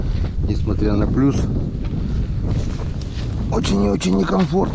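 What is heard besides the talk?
wind during winter fishing on the Pechora river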